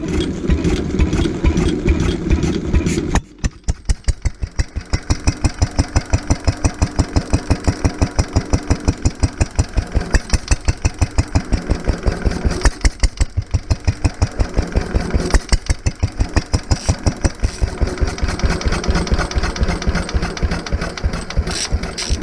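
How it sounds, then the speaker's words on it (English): A Lister D stationary diesel engine, a barn find, cranks and catches after about three seconds, then settles into a loud, steady, rapid thumping idle held close to the microphone. "the engine starts, you're going to see that the governor is going to go like this and start closing the throttle to regulate the engine"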